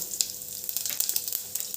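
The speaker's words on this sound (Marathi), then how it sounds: "कढई ठेवली आहे त्यात तेल टाकलं आहे जिरं" Cumin seeds crackle in hot oil in a kadhai, a close, continuous fizzing with small pops throughout the short moment.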